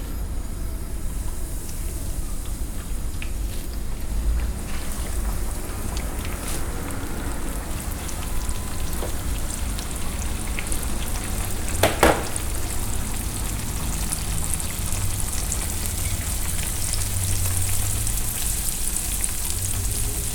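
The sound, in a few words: salmon skin frying in a pan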